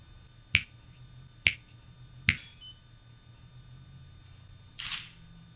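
Three sharp finger snaps in an even rhythm trigger a Nikon ClapSnap camera remote, and a shutter release follows a moment later. The room is otherwise quiet.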